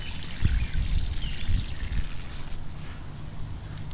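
Floodwater from a swollen creek rushes behind an old cemetery, giving a continuous close splashing and trickling roar with some low bumps early on.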